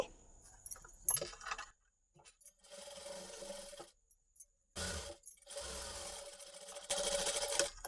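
Sewing machine stitching double-folded lehenga blouse fabric, several bursts of fast mechanical whirring separated by pauses, with small metallic clicks and handling noises in between, close and fairly quiet.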